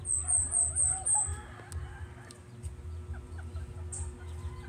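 Giant bantam chickens clucking and murmuring close by, with a few short calls over steady low farmyard noise and faint high bird chirps, no voices present.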